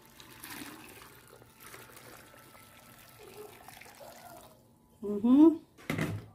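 Hot water is poured into a glass jar to sterilize it for pickled green mango, a short gurgling pour with rising pitch near the end after a stretch of quiet talk.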